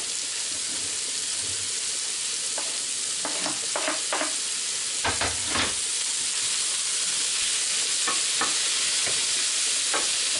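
Beetroot and garlic frying in a pan for borscht, giving a steady close sizzle and hiss with scattered stirring clicks and scrapes, no voices over it.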